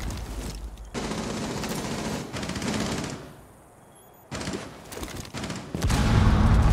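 Continuous automatic gunfire rattles in a shooter game, loud and dense, with a brief lull near the middle before the shooting resumes heavier.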